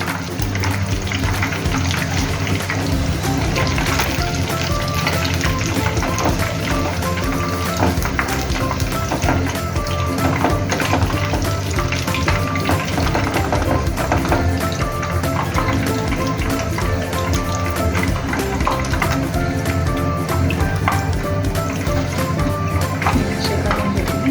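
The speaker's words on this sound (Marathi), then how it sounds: "आता सगळे लॉलीपॉप डबल फ्राय करून झालेले आहे" Chicken lollipops are double-fried in hot oil, producing a loud, dense, unbroken sizzle and bubbling that holds steady for the whole stretch, with faint background sounds mixed in.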